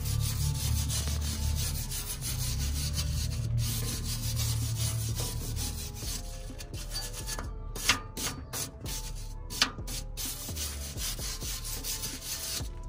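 Wire brush scrubbing a fresh weld on a cracked vehicle frame, a steady rough rasping scrape that continues for several seconds, with a couple of sharper knocks later.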